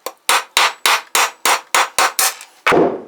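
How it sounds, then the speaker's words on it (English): Hammer blows on a wood block used to press a bearing into a Giant Maestro bicycle frame: about ten sharp, evenly spaced knocks, close and loud, ending in a heavier final strike. "while hammering into it, it's very, very, very unlikely that the wood is going to damage this paint job"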